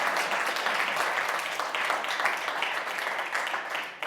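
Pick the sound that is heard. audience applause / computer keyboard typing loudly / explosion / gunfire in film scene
audience applause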